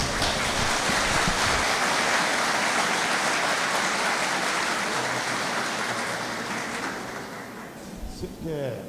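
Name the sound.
audience applause welcoming a speaker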